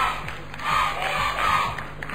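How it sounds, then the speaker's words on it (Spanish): Studio audience at a Factor X Chile gala, a TV talent show, roaring with a continuous crowd shout that swells and holds loud throughout, with no clear speech over it. "¿Pueden calmar a su público, por favor?"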